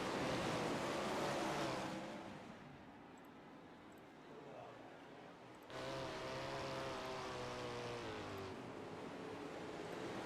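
Sprint car engines roar loudly and steadily at a Kokomo race start, briefly easing off before surging back in a sustained, droning rumble.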